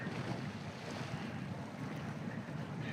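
In the video game SnowRunner, a vehicle drives into water, producing a steady rushing, sloshing wash like waves and wind, continuous and fairly soft with no voices.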